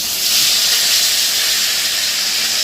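Fish heads dropped into hot oil in a home kitchen give off a loud, steady sizzling hiss that holds without a break, close by and with no talk over it.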